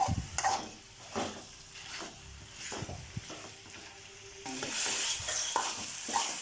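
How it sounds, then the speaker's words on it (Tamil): Chicken masala cooking in oil, with a steady close sizzle and repeated spoon scraping and stirring strokes against the pan, growing louder toward the end, no voices. "இதே மாதிரி நல்லா கிண்டி விட்டுட்டு வேக வைங்க"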